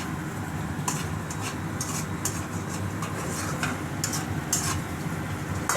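Chow mein is stirred in a pan: steady soft sizzling with repeated scraping and light metallic clinks of the utensil against the pan, fairly quiet, and no talking.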